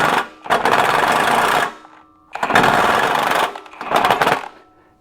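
A battery impact wrench hammers at the head pipe bolts under a Jeep, three loud, sustained bursts of rapid rattling impacts separated by short pauses, close and alone.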